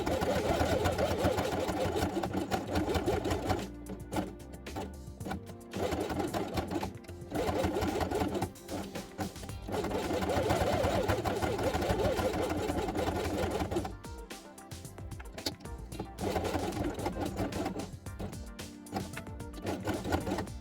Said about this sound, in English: Place beige element in the center and sew it along the edge with white thread.